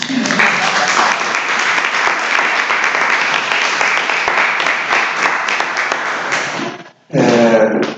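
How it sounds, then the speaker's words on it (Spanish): Sustained applause from a conference audience, a dense steady wash of clapping that runs loud and even for about seven seconds, breaks off briefly, then resumes just as strongly. "ese aplauso para ellos"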